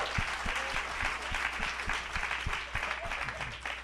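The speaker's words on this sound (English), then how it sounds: "give yourselves a round of applause" A studio audience at a live talk show claps steadily for itself, a dense even wash of many hands with a faint rhythmic thump underneath and no voices.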